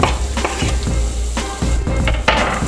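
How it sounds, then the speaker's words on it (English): Onion sizzling in melted butter in a pan, a loud close hiss broken by several clattering stirs and scrapes, with no talk. "we're just gonna add that onion to the butter just like that"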